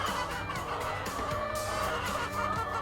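Chickens cluck and squawk steadily close by on a regenerative family farm during egg collection, a busy layered flock chorus with no talk.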